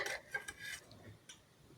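Cooked papaya curry with chickpeas, a vegetarian dish, is poured from a wok-style pan into a bowl, with a few soft clinks of metal and a spoon scraping close by and no talking.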